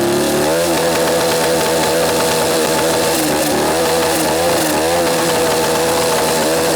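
A 150cc turbocharged go-kart engine runs hard and loud at high revs, a buzzy, rasping drone with small pitch wavers throughout and no talking.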